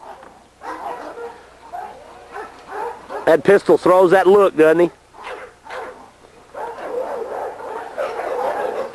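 Dogs in a dog yard bark and yip in a quick loud cluster midway, among restless yard noise, while someone talks close by before and after the barking.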